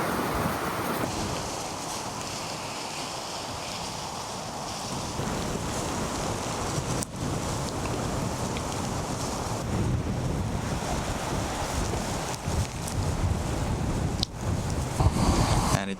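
Strong wind roars steadily over an open bog, loud continuous gusting buffeting the microphone with no talking.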